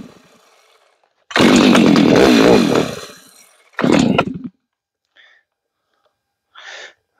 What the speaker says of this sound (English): If the chainsaw starts.